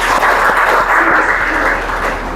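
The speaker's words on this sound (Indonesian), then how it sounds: "Tepuk tangan untuk Yesus." Loud, dense clapping from a church congregation, continuous and even for a couple of seconds before easing slightly.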